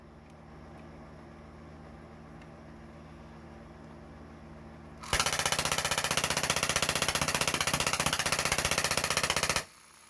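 A CO2 air gun fires on full auto, a dense loud rattling burst starting around five seconds and lasting about four and a half seconds before cutting off, following quieter mechanical background hum.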